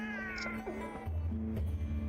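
A cat meows in Monster Hunter Rise, a drawn-out, wavering cry over a steady electronic hum and game sounds, with a few short yowls.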